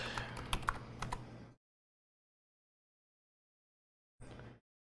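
Quick keystrokes on a computer keyboard, a rapid cluster of taps for about a second and a half, then silence, then a brief final burst of typing, all fairly quiet.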